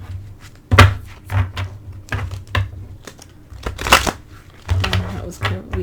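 Tarot cards being shuffled and handled, a series of irregular papery flicks and soft clacks close by, with some thumps and faint rustling.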